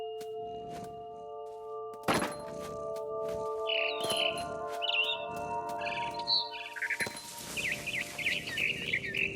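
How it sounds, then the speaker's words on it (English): A barn swallow chirps in the video game What Remains of Edith Finch: quick bright tweets in scattered bursts that grow busier toward the end, over a steady musical drone with a few soft thuds. "Then I heard chirping outside my window. It was a barn swallow going back to her nest."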